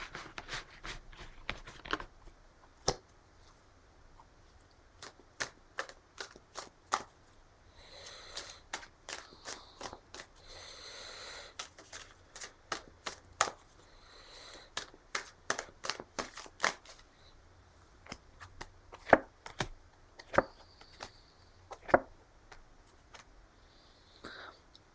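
Tarot cards shuffled by hand in a quiet room, a run of crisp riffling snaps and soft rustles scattered over about twenty-five seconds with brief pauses, close and fairly faint, with no voices.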